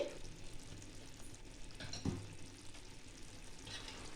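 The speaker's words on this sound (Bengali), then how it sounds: "এবার উপর থেকে একটু আমি সর্ষের তেল দিয়ে দিচ্ছি" Bhola fish curry with mustard oil frying in a pan, giving a quiet, continuous sizzle with soft stirring scrapes and a brief clatter midway.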